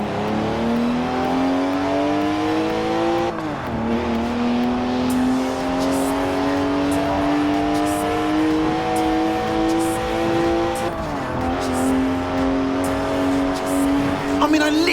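BMW 1M engine in the Forza Horizon 4 video game, revving hard through rising gear pulls with two clear shifts, loud and close, while someone talks over it.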